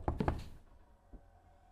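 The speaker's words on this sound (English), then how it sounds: "I heard a knock." Three quick knocks, likely on a door, inside a horror video game, sharp and fairly close together at the start, followed by near silence and one faint dull thump.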